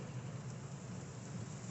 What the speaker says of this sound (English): whoa, damn, that rain is coming